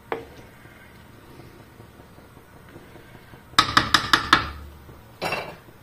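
A quiet stretch, then a quick run of about five metallic clinks as a lid settles onto a pan of boiling paella, followed by one more clatter.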